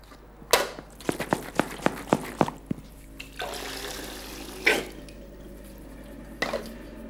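Water sloshing and splashing inside a handmade leather wine bota being rinsed with clean water, a run of rhythmic drip-like splashes followed by a longer swish and a final splash, close and fairly quiet.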